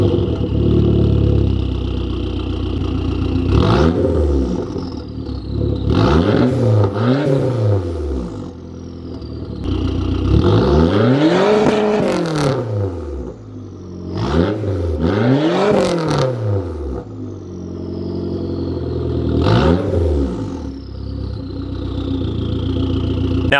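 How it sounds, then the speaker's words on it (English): Straight-piped Dodge Neon SRT-4 with a catless downpipe, said to make about 400 hp, revving repeatedly: several loud, close blips that climb and fall back to a rough idle between them, with no talking. "I know you're dying to hear it, so here's the exhaust note."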